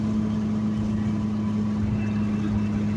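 Car engine held at high RPM under hard acceleration, a steady loud droning hum with a strong constant tone, continuous and close for the whole stretch.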